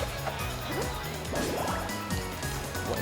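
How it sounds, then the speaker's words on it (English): A bubble-shooting forward air attack in the fighting game Rivals of Aether, played at a PAX South 2016 showcase: wet, burbling bubble pops and rising watery sweeps repeat over a steady background of game sound and hall noise. "That's your forward air. It just shoots bubbles out."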